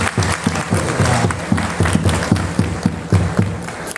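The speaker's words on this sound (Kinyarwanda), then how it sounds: "mumwongere amashyi, mumwongere amashyi." Audience at a church dance performance in Rwanda clapping in a steady rhythmic beat, about three claps per second, loud and close throughout with crowd noise behind.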